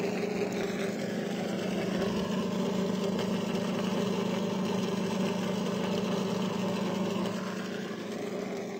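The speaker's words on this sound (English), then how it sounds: "That's the sound of horsepower here in the NASCAR garage" A NASCAR stock car engine rumbles loud and close in the garage with a steady, throaty drone, holding a constant rev throughout with no voices.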